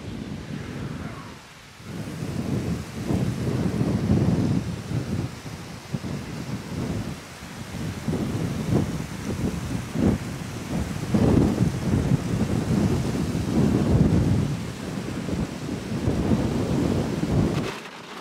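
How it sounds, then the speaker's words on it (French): A heavy thunderstorm: steady rain with deep, rolling rumbles of thunder throughout, plus some wind buffeting the microphone. "Je ne sais pas si vous l'entendez, mais c'est la grosse orage."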